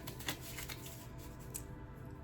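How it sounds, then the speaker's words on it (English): Cards being shuffled in a few quick riffling bursts, close and fairly soft, with a steady low hum underneath. "I'm gonna do a little shuffle here."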